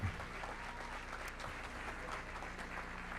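A conference hall audience giving a round of applause for Pedro Noguera, dense continuous clapping from a large crowd holding steady for the whole stretch.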